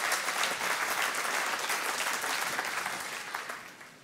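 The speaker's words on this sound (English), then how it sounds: "That's a good place to clap." A church congregation applauds during a sermon, a dense, steady wash of clapping from many hands that holds for several seconds and then slowly fades.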